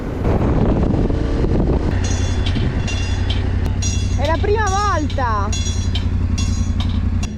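A train passes in Turkey with a loud, steady rumble that fills the whole stretch, while someone speaks over it.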